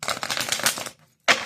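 Tarot cards are shuffled in a rapid riffling flutter close by, broken by a brief pause before a final quick burst of card noise.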